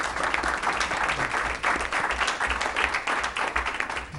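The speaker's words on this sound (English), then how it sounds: "Let's give him a round of applause." Applause at a city commission regular meeting in Marquette: a steady round of clapping from a roomful of attendees, even and continuous for a few seconds with no one speaking over it.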